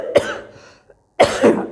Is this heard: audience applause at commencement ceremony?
no